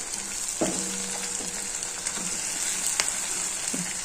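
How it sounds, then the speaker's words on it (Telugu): Cumin and fenugreek powder sizzle in hot oil for a bitter gourd curry, a steady close frying hiss with a few soft stirring clicks and taps. "వేడి వేడి నూనెలోనే వేయాలి జీలకర్ర మెంతం పొడి. బాగా వేయించుకోవాలమ్మా."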